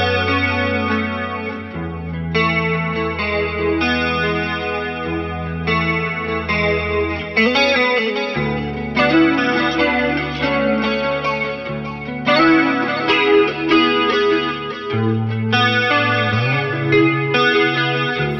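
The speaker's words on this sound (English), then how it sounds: "its glorious alien chorus sounds in barber pole mode, wild and percussive sequences in step mode, and shooting flanger rockets in trigger mode" An electric guitar runs through a flanger pedal in barber pole, step and trigger modes, giving sweeping, swirling chorus-like tones, rhythmic stepped sequences and rising jet-like sweeps. It plays loud and alone over sustained bass notes.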